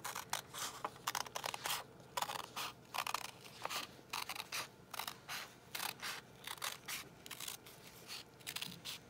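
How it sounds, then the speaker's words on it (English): Scissors snipping folded paper into a heart shape, a steady run of quick crisp cuts and rustles repeating close by, with no talking. "You fold the paper in half, and then cut it out in a sort of a small teardrop shape"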